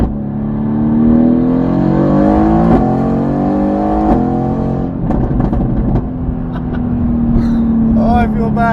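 A Mercedes AMG GT-R fitted with an $8000 Fi exhaust system revs loudly up close, with rising and falling engine pitch, repeated blips and a crackling settle to idle.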